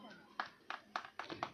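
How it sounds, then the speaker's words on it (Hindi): Audience clapping at a school annual exam prize ceremony, a few loose, scattered claps in short bursts rather than full applause, with a voice murmuring underneath. "जोरदार तालियां।"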